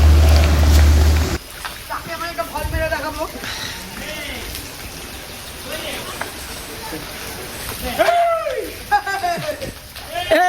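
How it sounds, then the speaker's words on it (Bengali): Water pours down heavily and continuously over someone bathing, a dense rain-like splatter that runs throughout while a person talks over it. "একদম অনেক জল পড়ছে"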